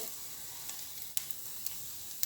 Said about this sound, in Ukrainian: І так жаримо всі інші бутерброди